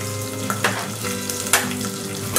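Cumin and garlic sautéing in a pan, a loud continuous sizzle and fry with occasional sharper crackles and stirring scrapes, no talking.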